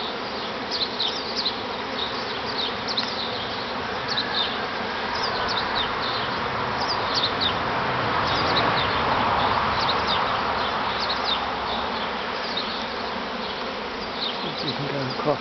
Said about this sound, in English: Lots of bees in the air.